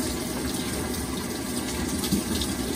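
Water gushes steadily into a Samsung top-load washing machine, a continuous, fairly loud rushing fill with no breaks and no voices.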